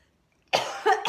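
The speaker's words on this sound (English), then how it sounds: "I start coughing spontaneously" A single person coughs twice in quick succession after a brief silence, close and loud, with a throaty, rough texture and no talk.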